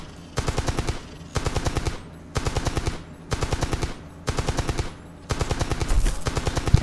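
A Grindhouse gun in Entropia Universe fires in five long automatic bursts, each a rapid, evenly spaced stream of loud shots with brief pauses between.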